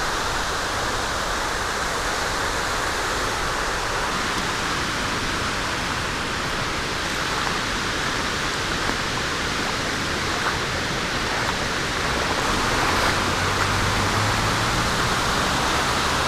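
Shallow Autauga Creek in Alabama flows with a steady, broadband rush of water, continuous and fairly close for the whole stretch, with no voices over it.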